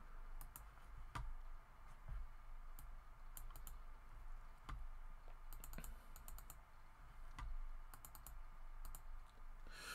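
Typing on a computer keyboard in a quiet room, soft scattered keystrokes arriving in short irregular bursts of clicks with pauses between them, faint and close.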